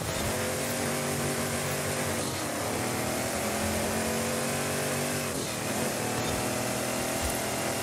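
A Warthog off-road vehicle drives hard in Forza Horizon 5, its engine whining loudly and steadily, with pitch climbing through the gears and dropping briefly at each shift.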